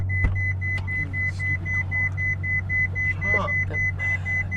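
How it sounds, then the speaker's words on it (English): Ferrari FF V12 hatchback cabin warning chime, a string of evenly spaced high electronic beeps repeating steadily over a low engine hum. "the engineers could have just said, you know what, maybe 3 beeps is fine"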